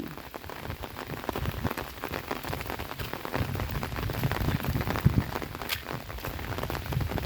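Heavy rain pours steadily onto a hard surface nearby, a dense continuous patter with scattered louder drops.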